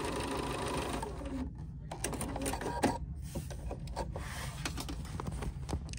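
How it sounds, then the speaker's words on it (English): The stepping motors of a Bernina sewing machine start up, producing a steady mechanical whir broken by a series of quick clicks and ticks, close and moderately loud. "That's just the stepping motors getting ready to greet you for the"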